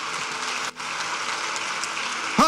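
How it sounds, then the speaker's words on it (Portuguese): A church congregation claps together for the name of Jesus during a sermon, a dense, sustained burst of applause that dips briefly near the start before carrying on steadily. "Será que você pode aplaudir o nome de Jesus?"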